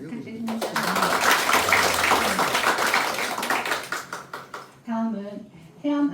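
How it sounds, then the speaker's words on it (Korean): Audience applause at a children's literature award ceremony in a fourth-floor seminar room of the Daegu Literature Museum, a dense burst of many hands that swells, then thins and tapers off before a voice speaks again. "참석하신 네 분께 다시 한번 큰 박수 부탁드립니다."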